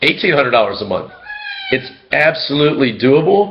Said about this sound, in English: That's my cat. Go away, cat.